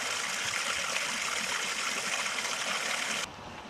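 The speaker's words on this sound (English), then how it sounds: "Now while that's draining down" Water from a homemade pond filter tub drains away in a steady, close rushing trickle that runs unbroken, then drops sharply quieter near the end.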